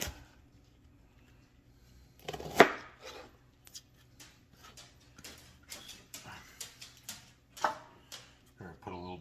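A knife chops Brussels sprouts in half on a cutting board, giving one sharp thunk and then a run of quieter, irregular cuts, close and clear against a quiet room.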